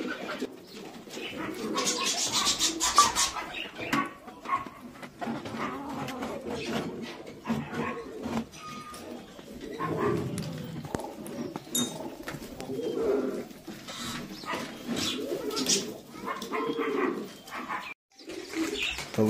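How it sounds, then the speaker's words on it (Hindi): Newly bought pigeons at a village loft coo repeatedly in low throaty bursts, close by, with some other background noise around them. "ये देख सकते हो सामने कबूतर, ये वो बाजरा कबूतर गाइज जो नया लेके आए थे, पर खोल दिए हैं तो गुट कर रहा है"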